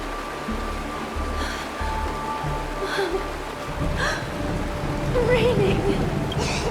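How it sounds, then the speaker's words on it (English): Rain falls in the game Honkai: Star Rail, a steady hiss of rainfall beneath scattered voices and a child's excited cries, growing slightly louder toward the end. "Rain! It's raining!"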